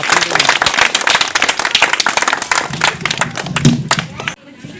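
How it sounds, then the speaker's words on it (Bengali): Loud, dense clapping from a crowd at a neighborhood prize ceremony, rapid and sustained, with voices talking over it before it cuts off near the end. "একটু সবাই হাততালি দেবেন জোরে।"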